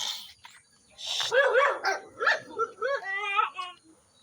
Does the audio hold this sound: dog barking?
yes